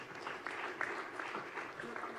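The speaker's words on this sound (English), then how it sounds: "Can we have a round of applause, please?" Round of applause at a health-policy summit panel introduction, fairly faint and distant, a steady wash of scattered clapping.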